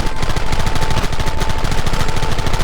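Sustained rapid gunfire in the Western video game Red Dead Redemption, a dense, loud barrage of overlapping shots and machine-gun bursts that continues without pause.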